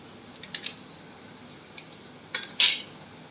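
A spoon drops two spoonfuls of powdered milk into flour for luchi dough, with a few light metallic taps early on and a brighter, louder spoon clink near the end, close up against a quiet background.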